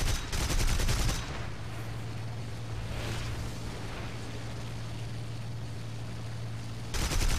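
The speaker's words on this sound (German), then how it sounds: "Beschuss." Sustained gunfire in the War Thunder video game at Peleliu Island, loud, dense and continuous bursts over a steady low engine drone, with heavier blasts at the start and end.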